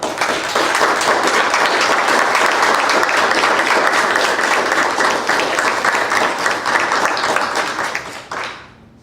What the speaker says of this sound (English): I think it deserves a nice round of applause for students